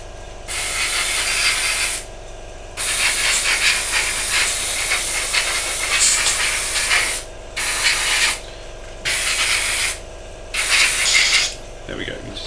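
Johnson's clear gloss being sprayed onto intakes, several bursts of loud hissing aerosol spray with short pauses between, the thick product sputtering as it comes out, heard alone up close.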